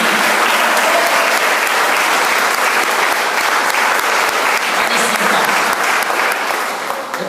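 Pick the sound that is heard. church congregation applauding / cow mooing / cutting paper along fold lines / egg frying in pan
church congregation applauding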